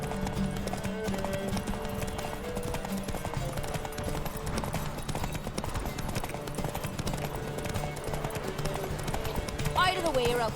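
Rapid, rhythmic hoofbeats of the horse Roach galloping in The Witcher 3, loud and continuous throughout, with game voices and music layered over the clatter.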